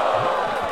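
A live crowd roars and cheers at a rap battle, a loud, dense wash of shouting voices sustained throughout the brief moment.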